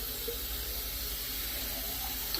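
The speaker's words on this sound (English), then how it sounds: "It's cold water out of the faucet." Cold water runs steadily from a faucet, a soft, even hiss and splash with no break, fairly faint and heard alone.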